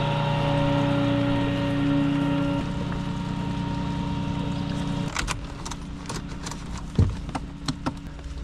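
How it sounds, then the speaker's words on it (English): Steady rain patters and hisses outdoors beside a tow truck with a low engine hum early on, then scattered sharp taps and drips grow more noticeable toward the end. "God, I hate the rain."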